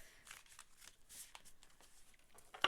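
Tarot cards being shuffled by hand, soft and close: quiet riffling and sliding bursts in an irregular rhythm, ending in one sharper snap of cards.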